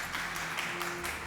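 A studio audience applauds on a religious Ramazan quiz show, with steady, moderately distant clapping that fills the whole short moment and has no voices over it.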